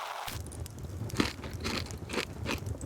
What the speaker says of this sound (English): and ate it.